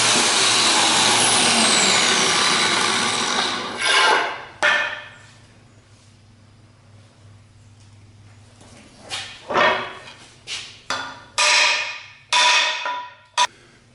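A wooden handle is driven into the head of a restored cooper's adze. A loud rushing noise comes first, then a series of sharp, close hammer blows, scattered and then quicker toward the end.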